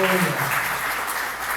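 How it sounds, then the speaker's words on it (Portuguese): A church congregation clapping, a short burst of dense applause close by with a voice briefly heard at the start. "Dê uma salva de palmas aí."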